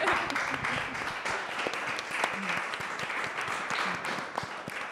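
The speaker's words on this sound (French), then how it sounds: "Et puis, vous pouvez applaudir, hein." An audience claps at a talk on feminist mobilisations in Schwarzsee, producing a fairly faint, steady patter of applause with scattered sharper claps throughout.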